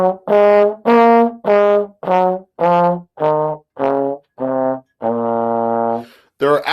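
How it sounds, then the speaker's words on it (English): A single melodic line steps down through an Aeolian natural minor scale, nine sustained notes one after another, the last held longer, clear and close with no voices. "Let's move back to that Aeolian natural minor scale."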